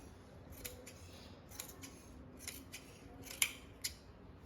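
Scissors snip away excess fabric while a Patiala salwar is cut from three metres of cloth, giving several sparse, quiet, close cuts spread over a few seconds in a calm room, with no talking.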